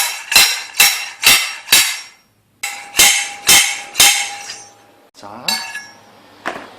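Repeated metallic hammer blows drive a headset race onto a touring bicycle fork with an installation tool: two sets of sharp ringing strikes, a few seconds apart and loud and close, followed by lighter clinks, with a brief word spoken.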